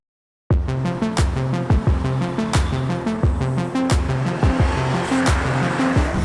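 A BMW 330i is pushed hard along a twisty canyon road, the engine revving up and down through gears in repeated surges while the tires squeal through the bends, loud and close, with no talk.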